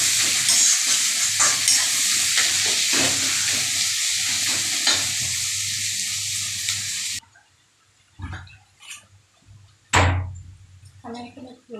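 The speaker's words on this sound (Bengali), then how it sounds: "পেঁয়াজটা ভালো করে লাল করে ভেজে নেব।" Onions fry in a pan with a dense, loud sizzle for about seven seconds before cutting off, followed by scattered stirring clatters and a voice speaking.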